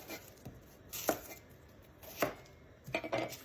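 A knife cutting through half a brown onion on a board, a few sharp separate chops spaced about a second apart, close and quiet with no talk.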